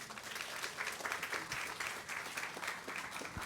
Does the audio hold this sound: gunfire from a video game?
no